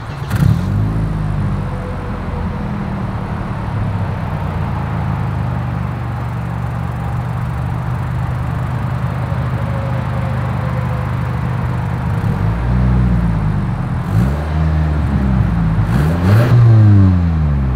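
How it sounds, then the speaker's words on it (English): A 2022 Toyota Camry's exhaust sounds loud and close as the engine revs, with a rising and falling drone in repeated surges, a steadier stretch in the middle, then several quick blips near the end. "As always, here is that exhaust clip."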